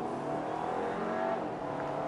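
A 2017 Audi Q5 with a 252 horsepower engine pulls hard at full throttle on the road, a dense, steady engine roar mixed with road noise that stays loud and close from start to finish.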